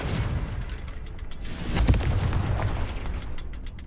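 Confringo blasting spell explosion in Hogwarts Legacy: a booming burst lands at mid-clip over a low, steady background rumble.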